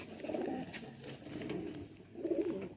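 A striped female pigeon coos softly in low, rolling phrases, two or three throaty bursts close by with quiet gaps between them.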